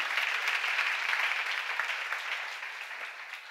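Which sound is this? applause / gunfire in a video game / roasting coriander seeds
applause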